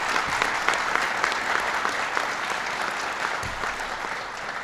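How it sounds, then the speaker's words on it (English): Audience at a presidential jobs report announcement breaks into steady, dense applause, sustained clapping that holds loud throughout and tapers only slightly at the end. "So give Heather a big round of applause"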